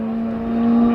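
A Formula Ford race car at Anglesey, its engine a steady, loud drone that builds slightly louder as it comes through, with no one talking.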